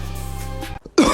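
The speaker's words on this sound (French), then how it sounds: "Wesh, arrête de tousser de partout," A short, harsh cough in Genshin Impact bursts out after a low droning hum, close and loud, over in about a second.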